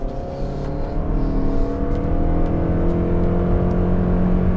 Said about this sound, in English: I'll put it in sport mode to see how, you know, how well it actually accelerates